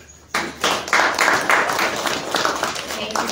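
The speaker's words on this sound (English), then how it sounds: "I think the commissioner deserves another round of applause." An audience bursts into applause at the close of a local government press briefing, clapping starting abruptly and continuing as a busy, fairly close patter of many hands.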